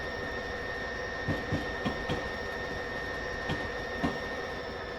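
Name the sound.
NJ Transit train moving, from video game Train Simulator 2020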